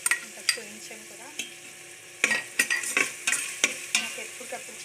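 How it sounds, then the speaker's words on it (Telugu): Ginger garlic paste fries in a pan with a soft sizzle, punctuated by sharp, irregular scrapes and clacks of a spoon stirring against the metal, up close with no talking. "ఇప్పుడు అల్లం వెల్లుల్లి పేస్ట్ వేసుకోవచ్చు."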